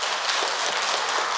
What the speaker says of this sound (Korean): 네, 박수 한번 쳐.